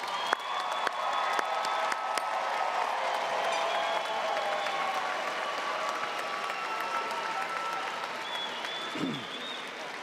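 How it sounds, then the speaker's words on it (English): Steady applause for graduates at a December commencement ceremony, sustained crowd clapping in a large hall with a few scattered cheers. "Please join me in another round of applause for the graduates."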